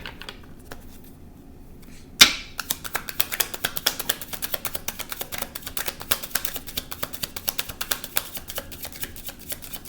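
Tarot cards being shuffled, a close rapid run of crisp flicking riffles that starts after a quiet moment and continues steadily, with no talk.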